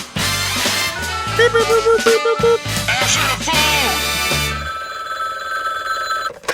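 A button toy plays a telephone ringing sound effect within a busy, loud mix of music and voices, followed by a sustained tonal tail.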